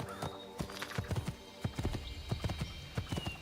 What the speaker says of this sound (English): is there a horse? There's some horses.